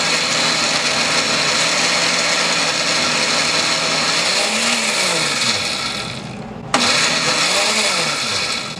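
Blender motor whirring steadily as it grinds peppers for a fermented hot sauce, a loud continuous drone that shifts pitch as the load changes, with a brief cut-out and restart near the end.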